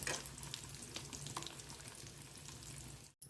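Pieces of fish fry sizzling in hot oil as they are lifted out of the pan: a close, continuous crackling hiss with small scraping clicks, cut by a brief silence near the end.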